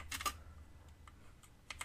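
Keystrokes on a computer keyboard while entering a search: a quick cluster of clicks at the start, a few sparse taps through the middle, and another burst near the end, close and crisp with no speech.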